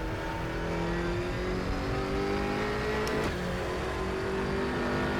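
A BMW M6 GT3 race car engine in the RaceRoom racing game drones continuously at Anderstorp Raceway, holding a steady mid-pitched tone with slight shifts in revs and no talk.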